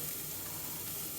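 Eggs mixed with cheese and spices hitting a hot pan over crispy browned ingredients for a frittata, a brief steady hissing sizzle, close and even, with no voices.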